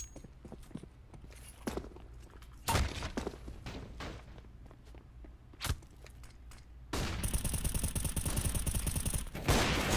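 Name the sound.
gunfire from Counter-Strike: Global Offensive video game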